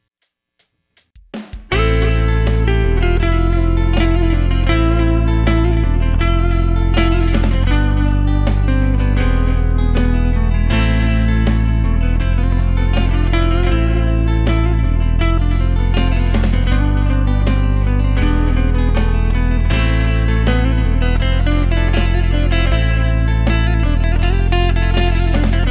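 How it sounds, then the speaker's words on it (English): Lead guitar runs through a computer looper over a steady layered backing loop, a continuous busy stream of notes that starts after a couple of seconds of quiet taps and carries on loudly with no talking. "So now you can hear the lead guitar."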